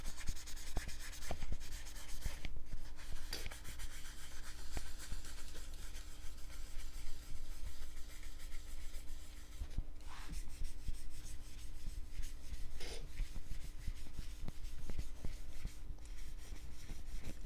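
Oil is rubbed by hand into a rosewood guitar fretboard on a DIY Telecaster build, a soft, steady rubbing and scratching with occasional sharper scrapes, faint and close, with no talking.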